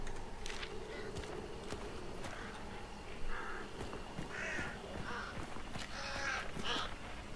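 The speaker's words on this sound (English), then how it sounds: "See, the birds will give your location away." Crows caw repeatedly at mid distance in a Hunt Showdown game scene, several harsh calls spaced across a steady ambient background with faint footsteps.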